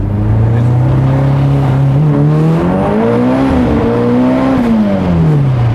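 A rear-wheel-drive car's engine revs steadily and loudly, its pitch climbing and falling across several throttle blips, with no talk over it.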